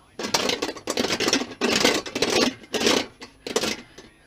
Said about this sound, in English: Bit of English wheel next to take out the ripples,